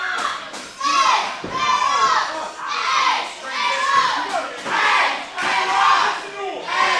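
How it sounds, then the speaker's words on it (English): Loud wrestling crowd at a ProSouth Wrestling event roaring and shouting in surging waves, with high-pitched yells and cheers rising and falling over the whole stretch, and a thud near the start. "This crowd going crazy tonight."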